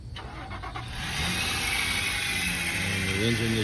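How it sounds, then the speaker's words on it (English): A car engine cranks and catches at an outdoor city vehicle auction, a short starter whir rising into a steady idle, heard at moderate distance. "The engine that you just heard starting is not on this Acura."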